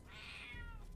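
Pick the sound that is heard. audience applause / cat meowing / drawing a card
cat meowing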